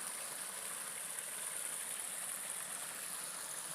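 Clear water in a woodland stream at Nutclough Woods near Hebden Bridge flows past small old stone dams, making a steady, even rushing hiss that stays soft and unbroken throughout.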